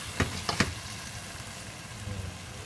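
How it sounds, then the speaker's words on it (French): Chickpeas with tomato purée and curry powder are stirred in a pan, with a few soft knocks of the spoon at the start over a quiet, low simmering sizzle. "Je mélange."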